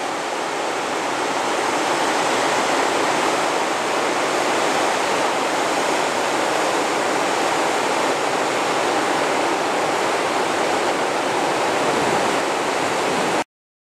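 Swollen Nysa river running high after storms and downpours in the Kłodzko Valley, water almost reaching a promenade path; a steady, loud, broadband roar of rushing water fills the whole stretch with no letup.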